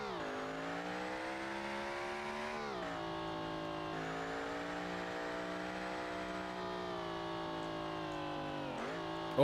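A race car engine in the BeamNG driving game revs hard at high RPM around the Goodwood circuit, a loud sustained buzzing drone that dips briefly with gear changes and then climbs again, with no voices over it.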